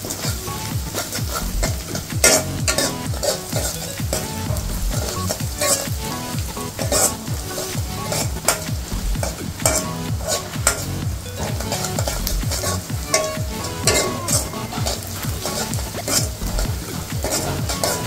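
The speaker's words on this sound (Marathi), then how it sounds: "मीठ आधी तुम्ही टाकलं तर तुमचा कांदा चांगला परतला जातो, लवकर ब्राऊन कलर होईल त्याचा आणि चांगला शिजेल तो" Onions sauté with salt in a hot pan for dal tadka, a loud, close, continuous sizzle with constant scraping and clattering of a spatula against the metal.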